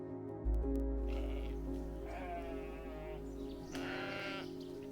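Sheep on the Faroe Islands bleat in a few drawn-out, wavering calls, fairly near, over a constant low rumble of wind.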